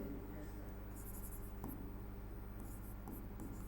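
Faint scratchy strokes of writing by hand during a classroom English lesson come in short high bursts over a low steady hum, with quiet voice-like murmur in the room.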